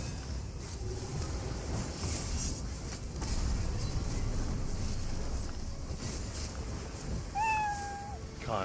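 A cat meows in a few short, rising calls near the end, over a steady background of game-like ambience and faint clicks.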